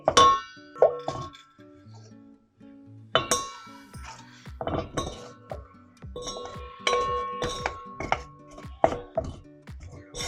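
Fried gune, a Rajasthani Gangaur sweet, are dropped into hot sugar syrup in a pan, giving a run of close clinks, soft plops and utensil knocks at an uneven rhythm, with no talking.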